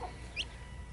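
A young frizzle chicken gives a single short, high cluck, close and faint over a quiet background hum.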